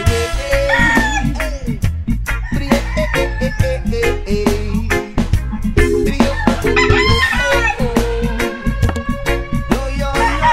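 Backyard chickens cluck densely and continuously nearby while a rooster crows repeatedly over the flock, loud and busy throughout with no talking.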